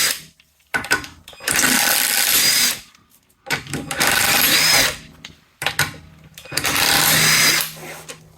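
A power tool whirs in three long bursts, each lasting about two seconds with short pauses between, as it removes a wheel from a VW Passat during a brake caliper job. The sound is loud and close.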